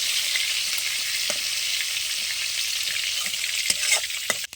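Small prawns frying in oil, a steady close sizzle with scattered spatters and occasional utensil taps, no voices.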